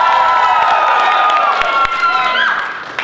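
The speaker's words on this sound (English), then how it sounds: "Cheer for me!" Convention panel audience cheering and clapping loudly in a hall, a sustained crowd roar with whoops that fades slightly toward the end.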